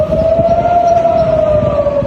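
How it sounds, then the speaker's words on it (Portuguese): A steady civil-defense rocket warning siren wails loudly in Israel, holding one sustained tone across the whole stretch with no voices over it. "O toque das sirenes anuncia a chegada de foguetes palestinos em Israel"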